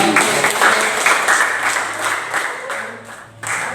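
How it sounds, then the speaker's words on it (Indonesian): A class audience claps for a student presenter, dense, lively applause from many people that tapers toward the end before a final brief burst, with a low voice faintly under it. "terima kasih dari kali tepuk tangan untuk Devi."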